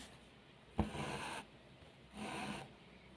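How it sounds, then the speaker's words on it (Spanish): An embroidery needle is pushed and pulled through stretched fabric while stitching small sunflower petals, giving two soft rasping draws of thread, each lasting about half a second, close and very quiet. "vuelvo a meter mi aguja aquí y a clavar en mi contorno"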